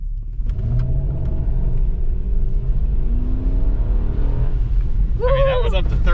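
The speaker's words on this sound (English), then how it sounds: "I'll give it the beans, and you can just see how well it takes off with both the all-wheel drive and these tires" A 2006 Toyota 4Runner with all-wheel drive pulls away hard on a dirt two-track trail, a steady low engine rumble rising as it accelerates, with someone talking over it throughout.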